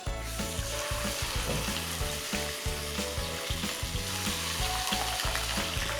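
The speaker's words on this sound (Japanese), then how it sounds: "そしたら皮目から焼いていきます。" Chicken fries skin side down in olive oil with halved garlic, giving a steady, loud close sizzle with crackling pops throughout and no talk.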